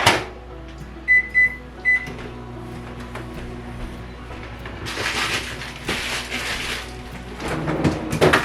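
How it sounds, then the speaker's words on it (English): A home microwave runs with a steady low hum while thawing a pork loin, with a few beeps early on, then brighter rumbling and rattling noises in the kitchen. "I put my pork loin in the microwave to thaw"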